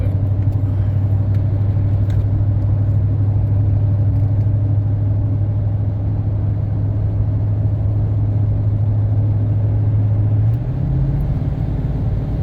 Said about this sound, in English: Y'all hear my engine braking.